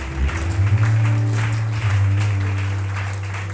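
A church congregation applauding for the Lord during a worship service, steady clapping mixed with a sustained low musical drone that gradually fades.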